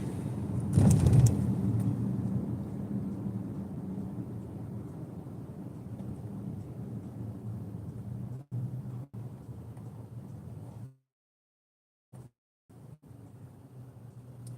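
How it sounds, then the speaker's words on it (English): Road traffic on a busy Friday afternoon, a steady broadband rumble of passing vehicles that swells early, holds through most of the stretch, then cuts out briefly in short gaps before resuming. "There's all kinds of traffic today."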